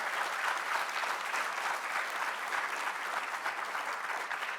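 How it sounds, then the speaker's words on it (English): Steady, even applause from a lecture audience, many hands clapping at a distance in a continuous wash that holds level throughout, with no voices on top. "I think we should give a round of applause to the amazing staff in the Office of the Dean"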